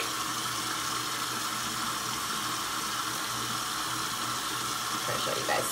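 Water runs steadily from a sink tap while makeup brushes are washed and worked under the stream. The rush of water is close and continuous throughout.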